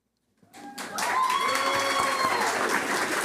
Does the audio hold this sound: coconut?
no